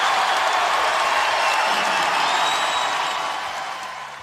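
A large crowd at an NCAA women's volleyball tournament match roars and applauds in a dense, loud wash of cheering that holds steady, then slowly fades near the end.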